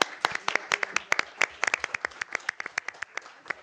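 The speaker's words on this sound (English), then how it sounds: "Let's give them a round of applause." A small group at a school board meeting claps unevenly for a few seconds, with sharp separate claps rather than a dense roar.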